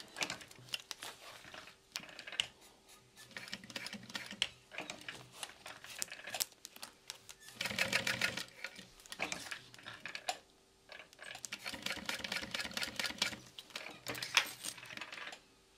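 A sewing machine box-stitches a strap on a clear vinyl hip bag, a steady run of rapid mechanical clatter with brief pauses and bursts, fairly close and with no talk.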